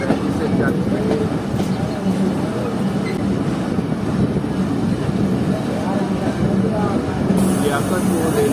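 Zikriya Express passenger train rolling along the rails between Karachi and Multan, a dense, steady rumble and rattle heard from inside the carriage, continuous and fairly loud throughout.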